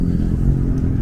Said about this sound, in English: this car is just taking their time coming through